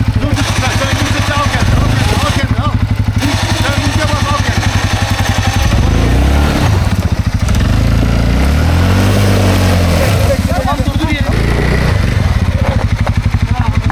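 A CFMOTO 1000 off-road vehicle engine drones and revs loudly and steadily with rattling clatter, the pitch rising and falling as it strains uphill in Uludağ's lakes region, while people talk over it.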